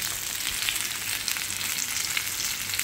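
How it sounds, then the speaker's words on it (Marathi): Fish frying in a pan gives a steady, dense sizzle and crackle that runs unbroken and fairly loud throughout, with no talking. "सो आतां हांव फीश फ्राय कोत्ता आनी मागीर मेवता."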